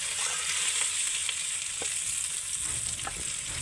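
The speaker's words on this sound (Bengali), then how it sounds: "এবার আমি যে কাঁঠাল আর আলু আমরা সমস্ত কিছু একটু ভেজে নেব" Jackfruit and potato fry in hot refined oil with a steady, dense sizzle, broken by a few light stirring scrapes and taps throughout.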